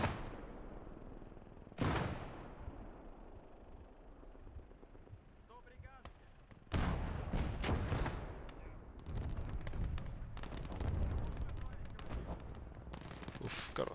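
Heavy artillery fire and explosions in the WWII strategy game Gates of Hell during a ranked 1v1 river battle, with several loud booming blasts and scattered gunfire over continuous battle noise.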